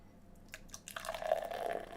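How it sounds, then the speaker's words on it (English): Beer pours from a can into a glass, starting with a few gurgling drips and building into a steady, close liquid splash and fizz. "Let's get into the theatrics of a 5-minute pour."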